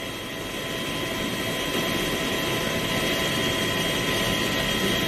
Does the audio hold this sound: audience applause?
no